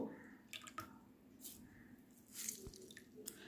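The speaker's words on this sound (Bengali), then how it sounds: "আলুগুলোকে যতটা সম্ভব শুকনো করে চিপে তুলে নিচ্ছি।" Grated raw potatoes squeezed by hand after rinsing, giving soft wet squishes and scattered drips of water falling back into a bowl, close and quiet with no talk.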